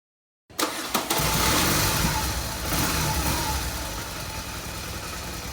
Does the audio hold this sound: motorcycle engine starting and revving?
yes